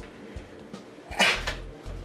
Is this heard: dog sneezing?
yes